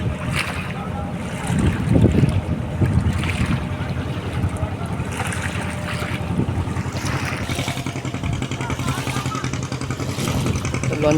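A passenger launch boat passing on a river in the Sundarbans, its engine rumble and the slap of its waves heard close by under gusty wind buffeting, with a rise in wash partway through.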